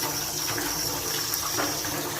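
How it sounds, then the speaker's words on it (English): Hot artesian bore water runs steadily from a tap, a loud, continuous close-up rush of water with no break. "Finally found a cold tap that runs hot."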